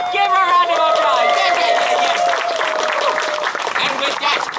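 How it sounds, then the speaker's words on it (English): Audience round of applause, dense and steady clapping from a crowd for the whole stretch while a voice talks over it. "Give her a round of applause."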